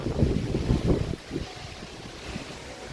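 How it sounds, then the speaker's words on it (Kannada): Strong wind gusting against the microphone, a heavy low rumble that eases after the first second. "ಈ ಗಾಳಿ ಬಿಟ್ಟೈತಿ ನೋಡ್ರಿ ಆಟ್ರಿ ಎಂಥ ಗಾಳಿ ಬಿಟ್ಟೈತಿ"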